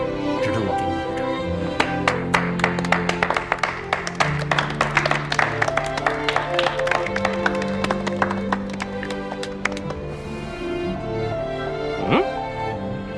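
Scattered crisp applause breaks out beneath steady background music, the claps irregular and dense for most of the stretch before thinning out near the end.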